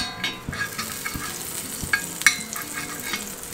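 Butter melting and crackling in a hot pan for garlic bread sticks, with a soft continuous sizzle broken by small pops and the scrape of stirring, close and moderately loud with no talk.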